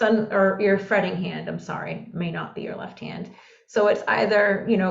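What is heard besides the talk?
None of the usual background noises is heard.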